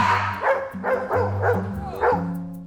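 A dog in a busy veterinary reception area lets out about five close, whiny, high-pitched barks in an uneven rhythm, with no talk.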